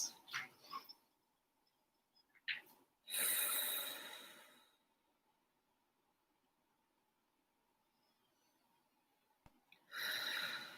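Deep, full breaths during guided meditation, a few short sniffs followed by a long, airy inhale and a slow exhale, then quiet before another breath begins. Each breath sounds close and soft, with no talking over it.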